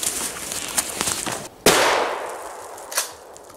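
A Winchester PDX1 12-gauge shotgun fires one loud, sharp blast outdoors, followed by a long decaying echo and a fainter secondary report.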